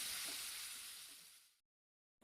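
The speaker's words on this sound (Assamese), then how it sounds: "এতিয়া হালধি নিমখ মিক্স হোৱাকৈ একেলগে ভাজি ল'ম।" Chicken pieces sizzle steadily in hot oil with turmeric and salt for a dry fry, a loud bright frying hiss that cuts off into silence after about one and a half seconds.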